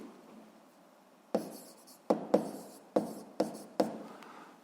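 Pen or pencil writing by hand on paper while working a physics exercise, close and clear, with a soft scratchy stroke and six sharper taps or stroke onsets at irregular intervals; no talk.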